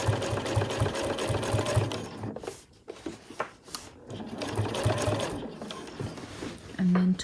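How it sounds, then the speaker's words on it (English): Sewing machine top stitching along a backpack zip, running in quick rattling bursts with a pause in the middle before stitching resumes, close and fairly quiet, with a brief low hum near the end. "So we're going to do our stitch along here now."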